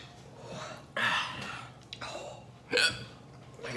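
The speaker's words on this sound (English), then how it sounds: "I got hiccups, hang on." Sharp hiccups, two or three of them, break out close up between quiet breaths during a spicy wing-eating challenge.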